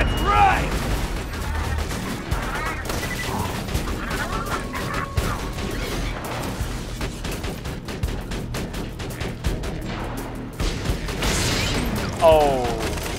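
An automated turret in Borderlands 2 fires steady rapid bursts amid chaotic battle noise and clanking mechanisms, loud and sustained, with voices talking over the action.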